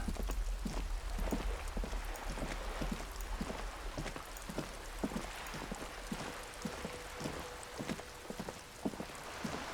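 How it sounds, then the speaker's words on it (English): Steady rain in the video game Disco Elysium, a continuous wash of falling rain with scattered droplet taps and soft thumps throughout, moderately loud and even, with no voices. "And it rains here a lot."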